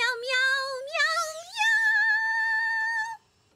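A cartoon character voices a long, drawn-out meow in imitation of a cat, sliding upward in pitch and then holding steady, loud and close with no other sound, before it cuts off.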